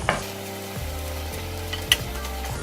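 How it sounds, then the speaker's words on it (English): Cooked rice stirred into a lentil mixture in a hot pan for vegan stuffed bell peppers, giving a soft steady scraping and faint sizzle with a couple of sharper spoon knocks against the pan. "I'm just stirring the rice in there with the lentil mixture"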